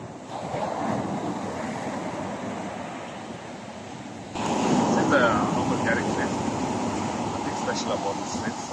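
Ocean surf rolls onto a beach at Virginia Beach while wind buffets the microphone, a steady loud wash that swells louder midway through.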